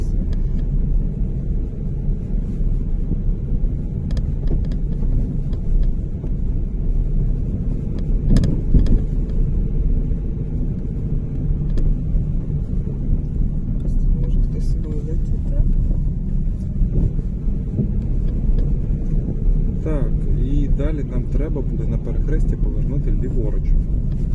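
A car drives a driving-test exam route through the village of Sofiivska Borshchahivka, its engine and road rumble holding steady and loud from inside the cabin while people talk over it.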